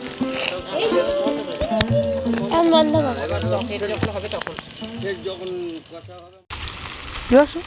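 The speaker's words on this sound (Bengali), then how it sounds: "এই যে আজকেও কাতলা ভাজা হচ্ছে।" Katla fish frying in oil over a wood fire in a Bengali village kitchen, a steady close sizzle running underneath people talking, with brief clatters and a short pause near the end.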